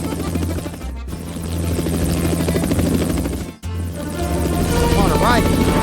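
Cartoon toy helicopter with a loud, continuous rotor buzz that cuts out briefly twice, with voices talking over it.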